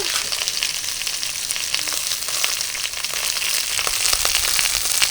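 Raw green mango pieces with spices frying for mango chutney, a steady, close, loud sizzle running throughout with faint crackles and no talk.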